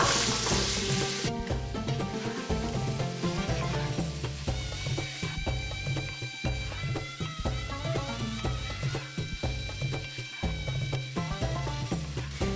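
Carrots frying for Ouzi, an onion and spice dish, sizzle steadily in a pan while a utensil stirs and scrapes them in repeated close, loud clatters, with no one speaking.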